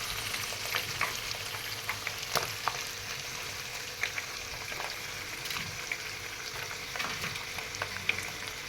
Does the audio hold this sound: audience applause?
no